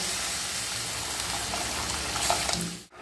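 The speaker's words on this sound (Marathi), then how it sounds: "या तांदळामध्ये मी हे 3 वाट्या गरम पाणी घालत आहे." Hot water pours steadily into a pot of rice, three cups of it, with a continuous splashing rush, stopping abruptly near the end.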